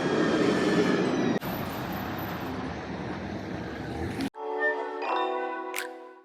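Train noise at Nice railway station, a steady loud rumble of rail and platform ambience for the first few seconds, then cutting to a quieter scene with a tonal chime or announcement-like sound.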